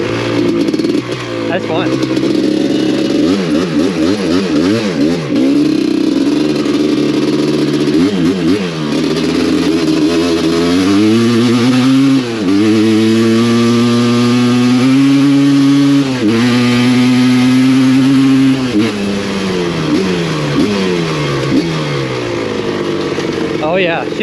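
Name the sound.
Suzuki LT250R two-stroke ATV engine revving while riding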